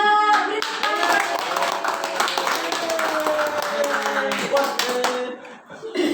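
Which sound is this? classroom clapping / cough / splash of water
classroom clapping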